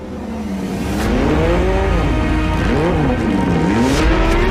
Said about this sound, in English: the big key in the back is the 6-cylinder Boxer with its unmistakable sound